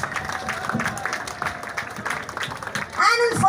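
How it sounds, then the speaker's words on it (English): Light clapping from a crowd at a rain run prize ceremony for an absent women's 10K winner, sparse claps under chatter and a voice, ending with a louder burst. "give her a round of applause anyway, guys."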